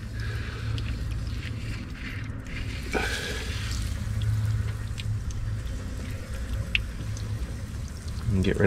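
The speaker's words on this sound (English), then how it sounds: "Bit of water rinse on here." Water from a garden hose splashes and runs steadily over an aluminum Corvette TPI intake plenum during cleaning, a continuous close rushing wash that grows louder near the end.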